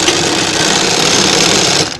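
An electric sewing machine stitches a frill onto a sleeve with a loud, continuous, even whir that holds steady and then stops abruptly at the end.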